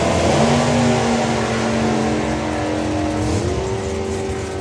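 A drag racing car launches down the strip, its engine roaring loud and close with a steady rising howl and a shift in pitch near the end.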